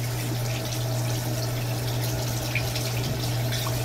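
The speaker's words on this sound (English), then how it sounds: "So I'm gonna turn on the hot water." Hot water runs steadily from a tap into a sink, a constant close rushing stream with a low hum beneath it and no talk.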